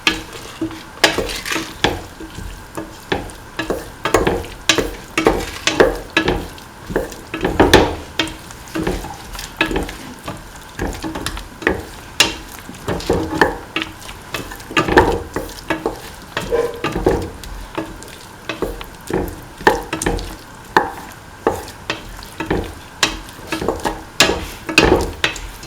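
Ivy gourd tamarind rice is stirred in a pan over a soft sizzle, with repeated scraping strokes in an uneven rhythm for about half a minute, close up and without talk.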